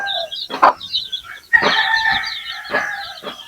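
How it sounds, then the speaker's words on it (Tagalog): Many chicks and hens from a home hatch peep and cluck close by in loud, overlapping bursts, with a few sharper calls among them. "Napakaraming sisiyo mga idol."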